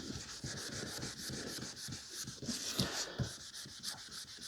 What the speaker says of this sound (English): We're almost halfway through the polishing